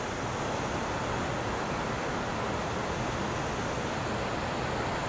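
Cumberland Falls, the main waterfall at Cumberland Falls State Park in Kentucky, gives off a constant dense roar of rushing water, even and unbroken throughout with no voices.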